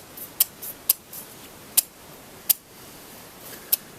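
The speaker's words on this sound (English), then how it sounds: "I'm going to make a cut using my tin snips" Tin snips cut metal hardware cloth in a string of sharp, isolated clicks, five or six crisp snaps spaced unevenly over a quiet background, close and with no voices.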